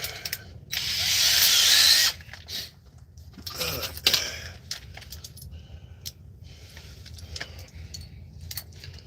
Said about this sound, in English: I need my 3/8 drill bit.